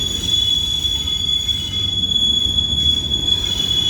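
A CSX freight train led by the L&N heritage unit 1850 rolls slowly into the yard at Cumberland, Maryland, its wheels holding a sharp, sustained squeal over a steady low rumble of moving cars.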